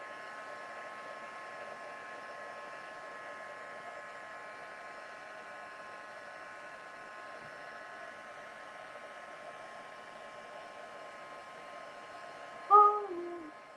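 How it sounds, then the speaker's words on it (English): Steady, even airflow hum of a heat tool blowing continuously while embossing with Versamark, holding at a constant level throughout, with a brief higher, louder tonal change near the very end. "I should have warmed up my heat tool before I started too."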